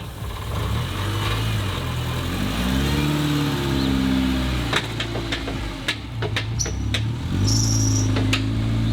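A Subaru Forester XT with a torque locker drives around corners, its engine revving up and easing off in waves, with a few sharp knocks and clunks near the end.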